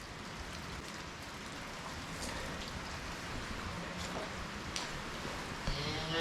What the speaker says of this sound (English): of course, it's still raining